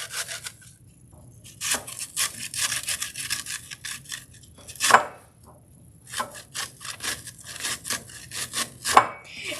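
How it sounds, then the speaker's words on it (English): Ingredients for kabob meat are ground by hand in short bursts of dry, scraping, rubbing strokes, close and fairly quiet, with brief pauses and sharper knocks between passes. "So we're just gonna grind this and then put it in the meat."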